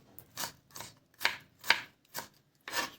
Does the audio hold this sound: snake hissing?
no